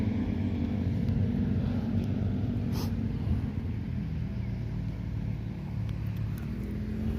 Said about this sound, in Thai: รถไถเดินตัวนี่จะไถได้ก่อน